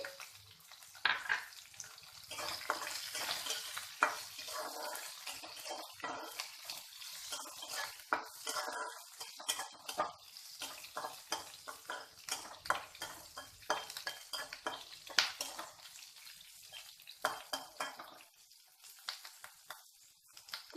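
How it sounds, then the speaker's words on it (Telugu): Chopped green chilies fry in a pan with a soft sizzle, while a utensil scrapes and clinks against the pan in irregular bursts, close and fairly quiet, with no one talking. "కొద్దిసేపు ఫ్రై అయిన తర్వాత ఇందులోనే పచ్చిమిరపకాయ ముక్కల్ని ఇలా చిన్న ముక్కలుగా ఉంచి వేసేసుకోవాలి"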